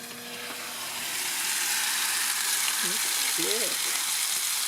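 Smash burger patties topped with American cheese sizzle steadily on a hot grill under a closed lid, a continuous hiss growing slightly louder after the first second while a voice speaks briefly over it.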